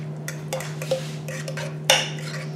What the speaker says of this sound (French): Ensuite, je vais mélanger à l'aide d'une fourchette.